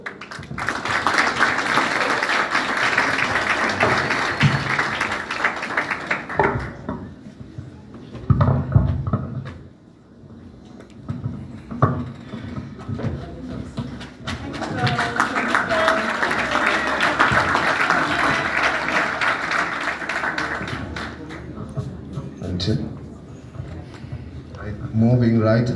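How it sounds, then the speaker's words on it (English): An audience applauds at the JA Eswatini Expo 2021. Two sustained bursts of clapping rise and fall with a quieter stretch between them, and voices come through around the applause. "just another round of applause for that innovative concept"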